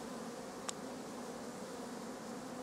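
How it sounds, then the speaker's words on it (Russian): Honeybees flying around beehives at a village homestead in June, a soft steady buzzing hum that stays constant throughout, with one brief faint click partway through and no talking. "Вот распределились пчелы, а то два улья почему-то были очень слабые, без пчел. А два сильные, а вон как летают."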